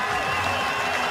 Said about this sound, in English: And there's huge applause around the ground as well from all the Pakistan supporters here